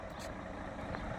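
Truck engine rumbling steadily at low volume, with short reversing-type beeps near the start and a faint tonal blip later, no speech.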